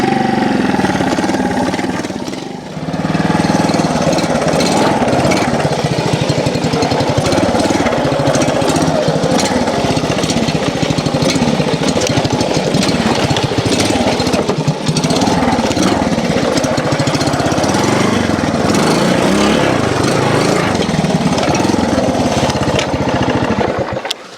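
A classic Honda TLR trials motorcycle engine runs steadily at a loud, close idle with a rough, chattering tone, continuous for the whole stretch after a brief dip near the start.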